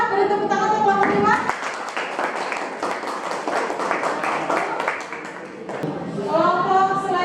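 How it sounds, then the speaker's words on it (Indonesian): A classroom group claps for presenting students: a short burst of dense, close applause in the middle, with a teacher's voice speaking before and after it. "Beri tepuk tangan untuk kelompok 5"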